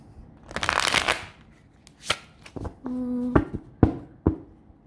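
An oracle card deck, thick with a slightly tricky edge, is riffle shuffled in a burst of fast rippling card flutter, then several sharp taps and snaps as the cards are bridged and squared, close and alone with no talk.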